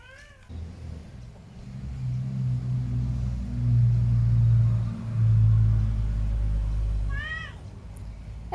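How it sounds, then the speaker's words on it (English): A truck rumbles past outdoors: a deep, steady low rumble swells and peaks mid-passage, then eases, with brief higher tonal calls at the start and end. "It's a truck."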